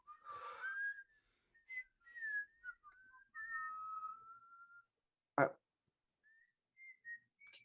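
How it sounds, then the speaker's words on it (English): Someone whistles a wandering melody in clear, sustained notes with short pauses, alone in a quiet room; a single sharp knock interrupts near the end. "You're whistling. It sounds so familiar."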